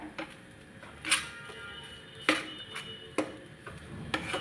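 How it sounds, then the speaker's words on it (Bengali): A utensil stirs a sattu mixture in a wok, scraping and tapping against the metal in a few distinct, spaced clinks over a soft background, close and moderately quiet, with no talking. "ছাতু অ্যাড করার পর কিছুক্ষণ এটা যতক্ষণ না শুকনো হচ্ছে কিছুক্ষণ নাড়তে হবে কড়ায়"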